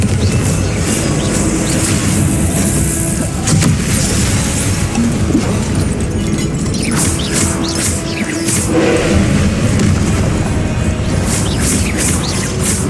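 Repeated Confringo blasting spells from Hogwarts Legacy burst in a dense, continuous wash of booming explosions and crackling debris, loud and layered with no pauses between impacts.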